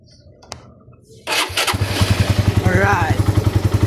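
A carbureted 180cc Raider motorcycle engine, cold, cranks and fires up, then settles into a steady, close, rhythmic idle with regular pulsing exhaust beats; brief handling noises precede the start.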